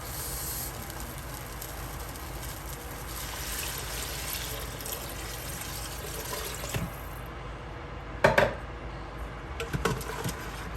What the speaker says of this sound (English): Final step to this is I'm going to go ahead and add my water here.